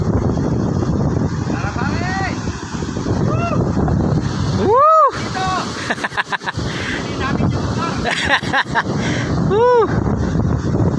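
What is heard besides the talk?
strong wind blowing over a boat at sea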